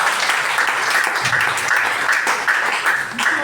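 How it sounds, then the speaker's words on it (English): A room full of people at a midwifery program orientation gives sustained, dense applause, steady and fairly loud throughout with no gap. "Why don't you clap for yourself?"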